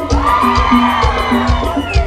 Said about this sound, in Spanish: un grito para los novios